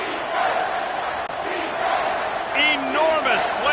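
A stadium crowd roars continuously through a College Football 25 game between Wisconsin and Iowa, a loud, dense cheer that swells near the end as a commentator's voice rises over it.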